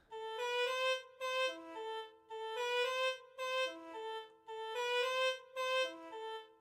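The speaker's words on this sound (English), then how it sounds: "The dudek is super cool." A duduk sample from East/West Composer Cloud plays a soft, reedy, mournful melodic phrase in repeating short breathy notes with clear gaps, alone and fairly quiet.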